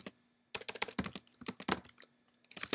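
Fast typing on a computer keyboard, with close, crisp clacking keystrokes in quick bursts separated by brief pauses.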